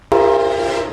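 A Brightline train horn blasts in a downtown Jensen Beach area near a roundabout, a loud, sustained chord that starts abruptly and holds steady for about a second with no talk.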